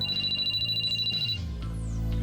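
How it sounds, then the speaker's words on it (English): A mobile phone ringing in a visual novel game, a rapid high electronic trill pulsing steadily for over a second before stopping, followed by low sliding synth tones. "We were still mulling it over when my phone rang."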